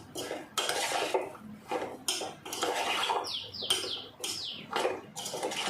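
A spoon scraping and clinking against a bowl while a powdered spice mixture is stirred, in several short bursts of metallic scraping with brief pauses, close and fairly loud, no talking.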